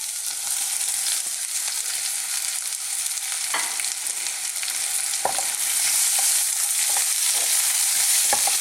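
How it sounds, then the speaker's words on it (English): Pork, chopped potato and fresh lime leaves stir-fried in a pan over high heat for a Thai pork and potato coconut curry, giving a steady close sizzle with occasional sharp scrapes and clicks of stirring throughout. "Now we're going to again stir fry this on a high heat for about 2 to 3 minutes, stirring continuously."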